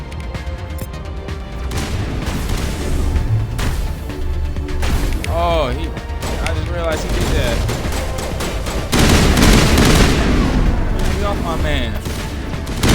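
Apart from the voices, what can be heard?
gunfire in the video game Mass Effect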